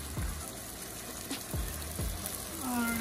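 Seasonings with smoked paprika sizzle in a hot pot for Jamaican beef patties, a steady moderate frying hiss broken by a few clinks and scrapes of a utensil.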